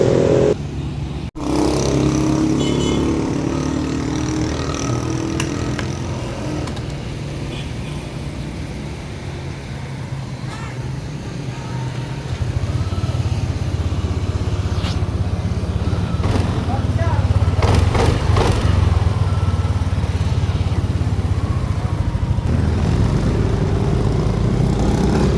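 Yamaha Aerox 155 scooter, just repaired after a crankshaft position sensor error, starting and then idling steadily in a workshop, the engine hum rising slightly partway through, with someone talking over it.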